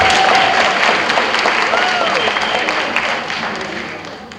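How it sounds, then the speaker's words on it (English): Applause from the audience at a talk on Hyde Park in the Gilded Age, a full, continuous crowd clapping with some voices underneath, gradually tapering off. "I never get applause for my part."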